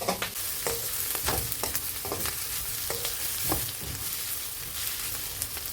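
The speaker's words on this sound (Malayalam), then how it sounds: "ഇതിലേക്ക് അല്പം കറിവേപ്പില ഇട്ട് കൊടുക്കാം. ഉള്ളി ഒന്ന് വഴന്ന് കിട്ടിയാൽ മതി" Onion frying with curry leaves in a pan for a vegetable curry, a dense continuous sizzle with repeated clinks and scrapes of a spoon stirring, close and steady.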